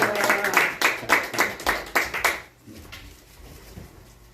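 A church congregation claps in welcome for a visiting pastor, with fairly close, steady hand claps that fade out partway through and leave quiet room tone.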